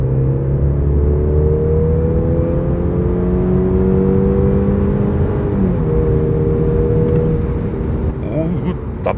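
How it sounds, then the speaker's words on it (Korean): A Mercedes-Benz C300 AMG Line with a four-cylinder petrol engine accelerates from low speed, its engine note rising steadily and loud inside the cabin, with road and wind noise underneath. "이 C300의 쥐어짜내는 엔진 사운드를 한번 체감해 보도록 할게요"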